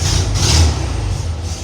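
A blue 1972 Volkswagen Beetle engine runs close by in a repair shop, a steady low rumble with a slight swell as gas is added, the car having had hard-starting trouble.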